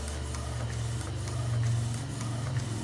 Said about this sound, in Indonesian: Nah, itu si printer masih lanjut untuk cetak.